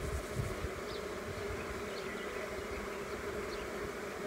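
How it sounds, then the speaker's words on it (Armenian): Honey bees crawling calmly over a beekeeper give a continuous close buzzing drone, steady throughout, with occasional brighter passes of individual bees. "մեղուն եթե գազազատ չի իլում, այսենց հանգիստ մեր վրայա բրցրանում ու խաղերա տալիս"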